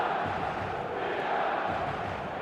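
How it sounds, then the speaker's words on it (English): A packed stadium crowd in a football video game roars as a steady, dense wall of noise, mid-distance and unbroken, with no clear individual voices standing out. "The stadium is full of noise and energy."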